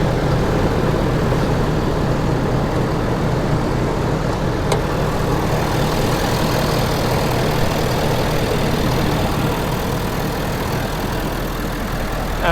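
A 2012 Ford F-350 Super Duty with an aftermarket intake idles with the hood open, a steady low rumble and even mechanical clatter heard up close, unchanging throughout.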